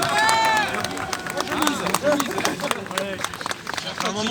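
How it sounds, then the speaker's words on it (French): A crowd at a patriotic street rally in France claps and cheers in uneven bursts, with a man calling out to the crowd over the noise. "Et on l'applaudit, on l'applaudit."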